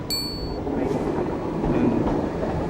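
Train at Brighton railway station passing steadily and loudly close by, with a brief high bell-like ding near the start and continuous rumbling wagon noise, no talk.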